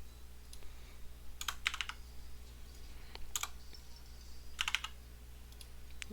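Typing on a computer keyboard while entering Pokémon stats, heard as a few short, separated bursts of clicky keystrokes over a low steady room hum.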